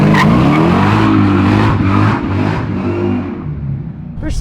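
A Hellcat-swapped Chevy C10 does a loud, close burnout, its engine roaring steadily as the tires skid and squeal, with a rising rev near the start and the sound easing slightly toward the end.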